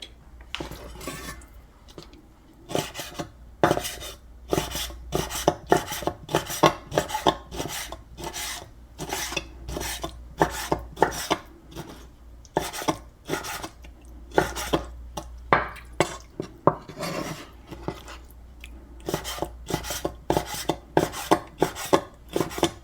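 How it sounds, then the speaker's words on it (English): A knife slices beef liver into thin pieces on a cutting board, a long run of quick, regular rasping cuts that sound close and clear, with no talking over them. "I am cutting beef liver into thin slices for even cooking."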